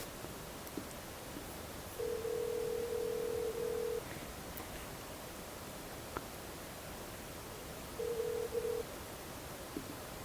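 A distant telephone rings out unanswered, a long two-second burst and later a shorter one, faint beneath a steady hiss.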